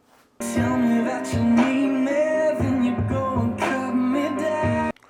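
Full-bodied music with strong bass and bright highs plays steadily from small Mackie CR3-X 3-inch monitor speakers, with no talking over it, then stops abruptly.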